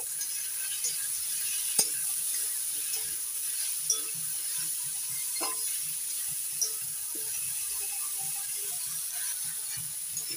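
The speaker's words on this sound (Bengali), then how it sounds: "আলুর সঙ্গে উচ্ছেটা একটু ভেজে নেব।" Bitter gourd and potato pieces frying in a pan give a soft, continuous sizzle, broken by a few sharp clicks and light scrapes from a stirring utensil.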